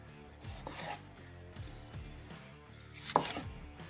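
A knife cutting a pepper into julienne on a chopping board, a quick series of crisp chops and scraping slices against the wood, close and distinct with a sharp knock near the end.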